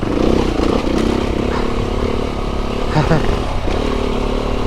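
A BMW motorcycle climbs a steep green lane, its engine a loud, close, rough drone that holds steady with slight rises and dips under load, while people talk over it.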